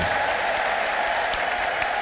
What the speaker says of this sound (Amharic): ለጌታ ከፍ ያለ ልልታና ጭብጨባ ስጡ